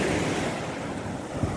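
Sea waves and surf breaking on a shore with blustery wind buffeting the microphone, a continuous loud wash of noise with no voices.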